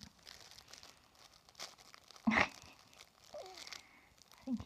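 A crinkly baby play mat is scrunched in soft, intermittent crackles with one sharper crinkling burst, quiet overall in an indoor room.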